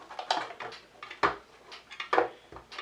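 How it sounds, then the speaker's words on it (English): A Litehawk Charger is flipped upside down, giving a short run of close hard clunks and rattles, about five distinct knocks over a few seconds. "So we'll flip her upside down."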